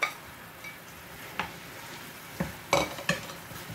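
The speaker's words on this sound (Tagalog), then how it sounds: "i-mix na natin yung ating pork chop" Pork chop pieces stirred in a frying pan over a soft, steady sizzle, with several scraping, clinking utensil strokes against the pan at uneven intervals, close and fairly quiet.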